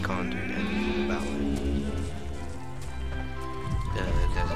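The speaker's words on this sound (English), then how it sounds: "There's a sheep." Sheep bleating in the video game Overlord, set over a dense, loud bed of game music and ambience, with talking heard throughout.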